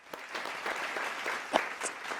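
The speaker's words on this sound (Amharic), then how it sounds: "አጨብጭቡልኝ" Audience applause at a gathering marking six months since a program's founding, steady clapping from a crowd lasting about two seconds with a few sharper claps standing out.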